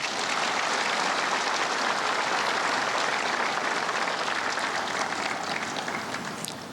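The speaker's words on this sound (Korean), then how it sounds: "여러분, 이분들께도 따뜻한 위로의 박수를 부탁드립니다." Sustained applause from a large crowd at a national Memorial Day ceremony, a steady, dense wash of clapping lasting throughout, honoring the bereaved family of a fallen soldier.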